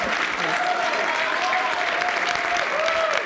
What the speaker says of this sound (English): Round of applause for all of you.